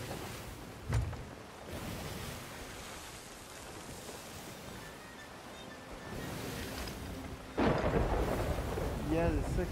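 A storm at sea in Sea of Thieves: a low, constant roar of waves and rain, broken by two heavy thunder cracks, one early and a stronger one late. A faint voice surfaces near the end.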